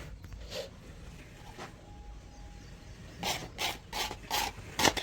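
Polish paper being rubbed over a racing bullock's horns outdoors, giving soft scattered rasping strokes, faint at first, then a quicker run of five or six brisk rubs near the end.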